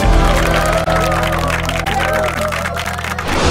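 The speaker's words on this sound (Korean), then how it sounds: "박수 부탁드립니다." A studio audience bursts into applause and excited cheering right after a card magic trick reveals a ten of diamonds, loud and close, with voices mixed into the clapping throughout.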